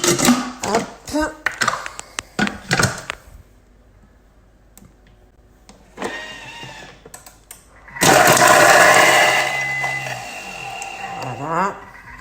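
A Thermomix bowl whirring loudly as its blades chop onions, a steady motor roar that swells and then fades, following earlier clicks and handling noises.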